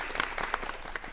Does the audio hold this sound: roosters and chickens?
no